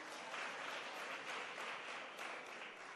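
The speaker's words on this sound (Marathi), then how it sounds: "चंदाताईंसाठी एकदा जोरदार टाळ्या वाजूया" A seated audience at a saint-literature conference in Kolhapur applauds, producing a dense, even wash of many hands clapping that stays faint and distant, with no voices.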